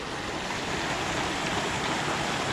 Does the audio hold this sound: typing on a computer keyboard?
no